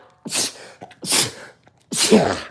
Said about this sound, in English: I sneezed to claim victory 3 times